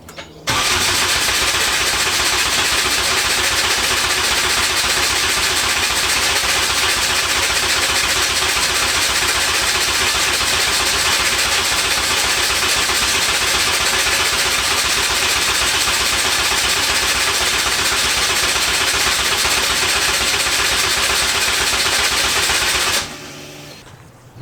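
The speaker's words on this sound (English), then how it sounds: "Well, it's not firing still, so it's just cranking" A Honda K20-swapped EG hatchback engine cranks steadily on the starter without firing, a continuous loud rhythmic churning that runs unbroken for over twenty seconds before stopping abruptly.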